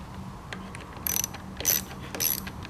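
Screws being driven into a Briggs & Stratton E-Series lawnmower carburetor with a ratcheting tool, several quick clicking ratchet bursts in close succession over a low background hum, near and fairly loud, without talking.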